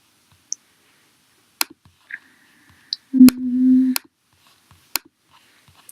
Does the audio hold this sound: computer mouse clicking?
yes